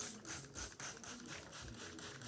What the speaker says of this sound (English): Spray the paper.